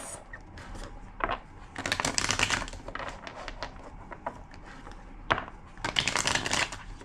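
A deck of tarot cards is shuffled up close in short quiet bursts, crisp riffling flutters separated by pauses and soft taps as the cards are squared.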